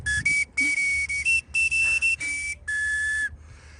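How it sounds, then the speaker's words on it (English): The Wienermobile's novelty weenie whistle, blown loud and close in a quick run of about seven shrill toots with short gaps and a changing pitch, with no voices. "So a little weenie whistle."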